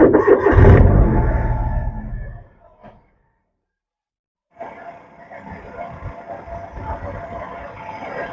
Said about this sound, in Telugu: ఒకసారి బండి ఇంజిన్ కూడా స్టార్ట్ చేసి మీకు చూపిస్తానండి